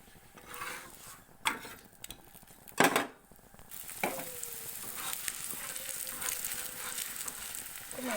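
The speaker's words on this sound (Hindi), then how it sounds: "अब मैं इसके ऊपर थोड़ा सा ऑयल डालूंगी, 2 चम्मच। उसको पकाऊंगी।" Methi paratha sizzles in oil on a hot pan, a steady close frying hiss with a few sharper clatters and scrapes of a utensil against the pan midway.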